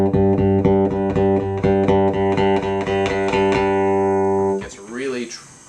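Bass guitar played with the treble knob turned up, giving a bright, twangy tone: a run of evenly repeated plucked notes that ring on, then fade as the playing stops.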